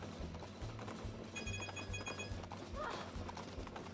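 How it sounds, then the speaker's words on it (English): Rhythmic hoofbeats of a galloping horse with a brief whinny in the video game Princess Peach Showtime, set against a steady low background hum and scattered faint tones. "Do I hear a horse?"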